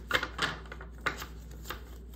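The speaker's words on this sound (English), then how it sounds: "I'm going to shuffle these real quick." Tarot cards shuffled by hand in a quiet room, a run of four or five short papery riffling bursts spaced unevenly, close and fairly soft with no talk.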